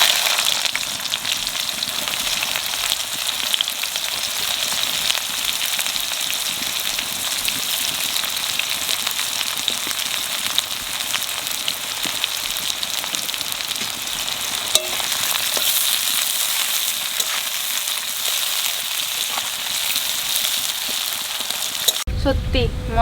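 Onions frying in a pan for chicken curry, a loud, steady sizzle with dense crackling and occasional sharper pops that runs on continuously, then cuts off abruptly at the very end.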